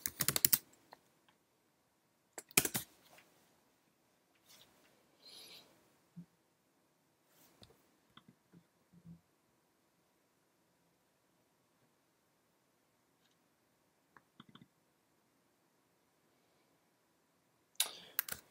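A computer keyboard in a quiet room, with scattered short bursts of soft, faint key clicks and long silent gaps between them as data is typed.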